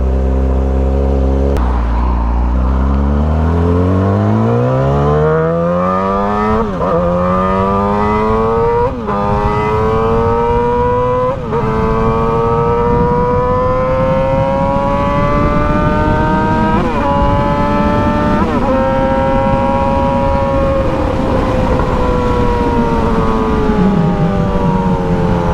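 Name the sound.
2007 Yamaha R6 motorcycle revving with Power Commander and full exhaust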